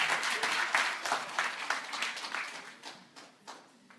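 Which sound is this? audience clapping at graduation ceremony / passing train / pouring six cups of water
audience clapping at graduation ceremony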